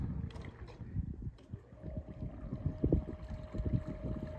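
A GOWI Osprey GPS bait boat runs fast across the water, a faint thin motor whine holding steady over splashing, wind and water noise close to the microphone.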